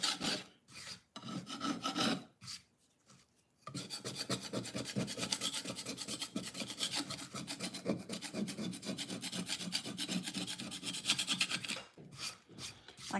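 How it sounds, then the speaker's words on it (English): A decoupage project's edges get scraped with a tool, making a steady, close rasping rub that runs continuously for several seconds after a few short strokes at the start, with no talk. "I'm just kind of scraping that up a little bit. Those edges."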